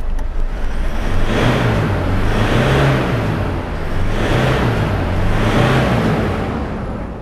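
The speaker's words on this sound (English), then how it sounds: "I'm gonna just rev it again." A Ford Ranger 3.0 diesel engine, running rough on three cylinders and blowing black smoke, is revved up and down repeatedly at close range, loud and alone.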